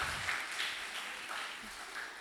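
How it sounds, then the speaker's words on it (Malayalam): A church or Sunday-school audience claps for the teachers, a soft, diffuse patter of many hands heard from a distance and fairly faint. "Give A big clap."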